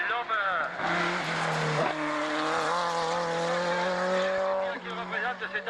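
A Renault Turbo 2 rally car, its engine prepared by Renault, drives in 1992 Moissac Sainte-Thècle hill-climb competition, the loud engine holding a sustained roar with pitch shifts between gears while a commentator talks over it.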